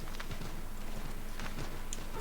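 Horse hooves clip-clop in the Assassin's Creed III video game, a quick steady run of hoofbeats over a constant low game background with no talking.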